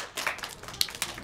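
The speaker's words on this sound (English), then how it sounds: "can everybody give me a big clap?" Children clap along during a Santa version of the Bingo song, a scattering of sharp, fairly quiet hand claps with a few stronger slaps, loosely timed and close by.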